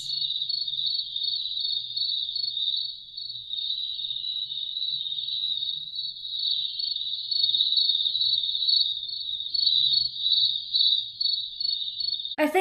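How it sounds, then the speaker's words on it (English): Crickets chirping from a SoundMe noise machine, an unbroken, shrill, evenly pulsing insect trill that holds at a steady level for the whole stretch over a faint low hum. "This is crickets."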